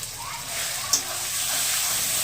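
Greens paste (kathoya leaves) fried in a pan with browned onion and garlic gives a steady, moderately loud sizzle and hiss, with one brief sharp spatter near the start.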